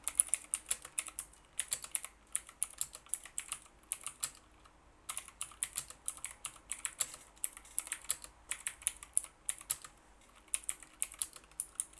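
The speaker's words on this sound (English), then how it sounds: "I don't know my typing speed from doing it like this." Touch-typing practice on a computer keyboard: close, crisp keystrokes in rapid bursts separated by brief pauses, steady throughout with no voices.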